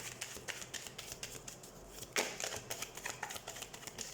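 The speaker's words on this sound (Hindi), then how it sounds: "सबसे पहले हम कार्ड शफल कर लेते हैं।" A deck of tarot cards is shuffled up close with a continuous quiet riffling and flicking patter, including one sharper snap partway through, and no voices.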